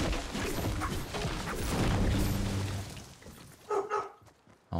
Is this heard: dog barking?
yes